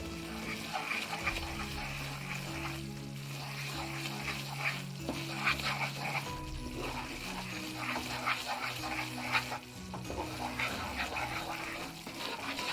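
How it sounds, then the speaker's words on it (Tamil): A gram flour barfi mixture being stirred continuously in a pan, giving a steady, close scraping and soft bubbling sizzle throughout, with a faint low hum in the background. "நல்லா இந்த மாதிரி கிண்டி விட்டுட்டே இருக்கணும்."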